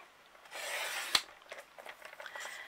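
Cardstock paper is cut for a paper-craft project, giving a soft close rasping swipe, a sharp click, then a few light scratchy rustles.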